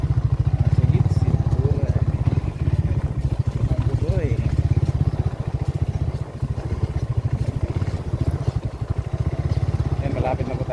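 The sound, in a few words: motorcycle engine running with a squeaking noise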